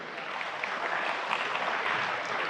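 An audience claps in a dense, even wash of applause that keeps going at moderate loudness. No voices are heard over it.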